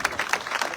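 An audience at an awards ceremony claps in a short burst of dense, lively applause.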